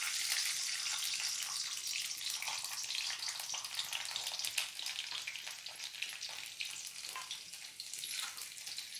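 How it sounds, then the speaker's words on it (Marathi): Garlic fries in about four tablespoons of hot oil for a kardai bhaji, making a continuous bright, hissing sizzle that stays fairly soft and even throughout, with no voices. "लसूण आपण थोडासा लालसर होऊ द्यायचा आहे"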